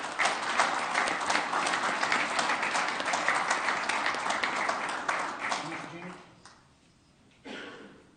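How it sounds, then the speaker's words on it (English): A council-meeting audience claps in sustained applause, steady and moderately loud, then it fades out and a voice begins speaking. "You guys give them a round of applause."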